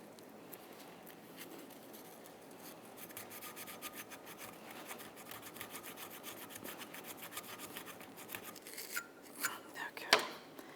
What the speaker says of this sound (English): Now I'll use a wire brush on both sides of this.